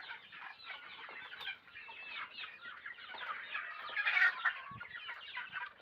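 A flock of well-grown native chickens on a farm clucks and chatters continuously at a moderate, fairly distant level, with overlapping calls that swell briefly before easing off.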